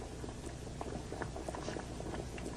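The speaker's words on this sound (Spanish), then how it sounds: "El agua inmóvil se convierte en un líquido borboteante con el vapor saliendo del agua y del recipiente." Water in a pot boils at a steady, rolling bubble, with dense popping and gurgling, close and continuous at a low level, with no voices.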